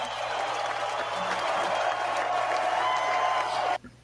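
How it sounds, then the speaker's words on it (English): Sustained applause from a crowd, steady clapping that cuts off abruptly near the end. "Please give him a big round of applause."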